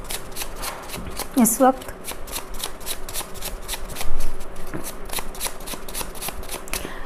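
Tarot cards are shuffled in quick, steady rhythmic riffles that run through the whole stretch, close and crisp, while someone talks softly over them.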